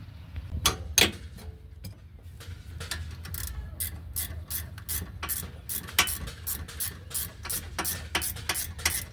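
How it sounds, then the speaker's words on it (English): A ratchet wrench turns out a 14 mm rear brake caliper bolt on a 2019 Infiniti QX60 3.5L, giving a close, rapid series of clicking ticks in uneven bursts with no talking. "then just use a ratchet wrench to finish getting this out"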